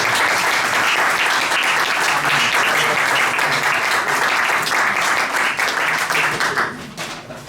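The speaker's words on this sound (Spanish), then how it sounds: "Así que un aplauso a Francisco." An audience at a talk on Canary Islands efforts against global warming applauds Francisco with dense, loud, sustained clapping from a large crowd, close and steady for about six seconds before tapering off.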